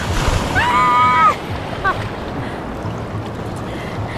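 Sea waves wash over people in the surf, a rushing roar of water under wind, while voices shriek and cry out briefly before the surge settles into a steady wash.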